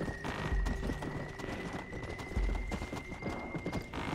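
Horse hooves clip-clop steadily and close in Red Dead Redemption: Undead Nightmare, with a whinny and heavier thumping strides at intervals, with no talk over the gallop.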